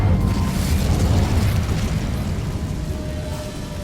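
Incendio fire spell from Hogwarts Legacy bursting in a loud, sustained fiery roar with heavy low rumble that slowly fades over a few seconds, no voices present.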